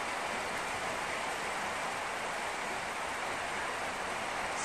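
Steady rain falling on a mountainside during a thunderstorm, a dense, constant hiss without breaks that stays loud and even throughout.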